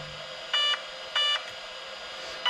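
An Arrma Vorteks 4x4 BLX RC car's ESC beeps on power-up: three short electronic tones, evenly spaced, ring out close and clear over a quiet background.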